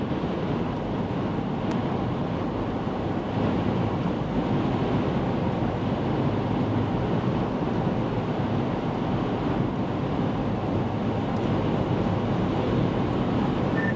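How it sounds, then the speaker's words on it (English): Strong wind roars steadily and loudly throughout a lake-effect snowstorm in New York, a constant close buffeting rush with no pauses and no talk. "Wow, that is some strong wind."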